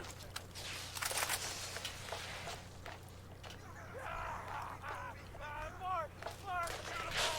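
Sharp bursts of gunfire from the video game Borderlands crack out in scattered volleys amid honking, squawking in-game effects and a low background hum.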